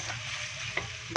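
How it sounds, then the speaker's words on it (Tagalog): Chicken for chicken in coconut milk, seasoned with pepper and salt, stirred in a frying pan over a steady sizzle, with two sharper scrapes of the utensil near the end. "Tapos haluin natin."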